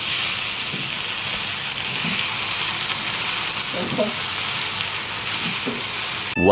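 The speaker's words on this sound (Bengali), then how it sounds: "তোমরা যারা ভুড়ি ভাজো তারা তো জানোই যে ভুড়ি প্রচন্ড ছিটে" Beef tripe fries in a pan, a loud, continuous hiss and sizzle with scattered spattering pops, heard close up and without talk.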